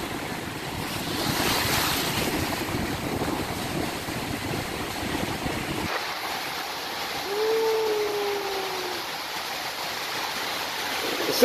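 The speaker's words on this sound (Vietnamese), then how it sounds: "Sức gió nó chạy rất là nhanh đây các bạn" Strong seaside wind with surf rolling in during paragliding, a loud, steady roar of gusts and breaking waves that eases about halfway through, leaving a faint rising whine over the softer rush.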